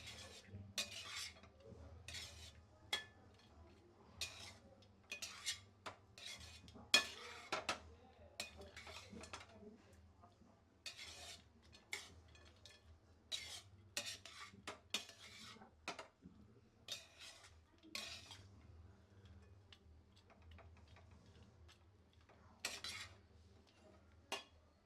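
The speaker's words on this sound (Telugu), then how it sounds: "సిమ్లో పెట్టి కలుపుకుంటూ ఉండాలి." A metal spoon scrapes and clinks against a pan while pulihora is stirred over low heat, with a steady run of soft, irregular taps and clatters close by and no voice.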